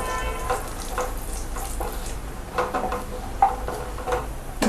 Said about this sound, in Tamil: இப்போ நல்லா முந்திரி ஃப்ரை ஆகிடுச்சு.